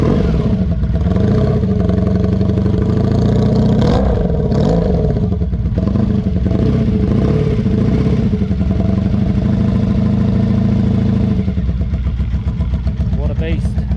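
A cold Honda VF750 V4 motorcycle engine starts without choke close by, rising and falling through a few revs before settling into a rough, throbbing idle that sounds like a twin.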